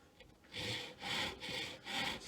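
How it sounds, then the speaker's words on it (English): A tenon saw cuts wood for a camp stool frame, four close rasping strokes in a steady back-and-forth rhythm, fairly quiet and alone. "That means that I'm never blinded by the tenon saw when I cut."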